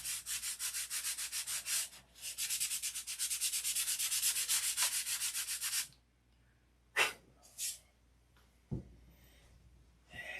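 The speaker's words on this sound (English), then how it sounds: "We're sanding the material off." Hand sanding strips material off a surface in long, steady, raspy strokes for several seconds, then stops, leaving a few brief scrapes and small knocks in the quiet.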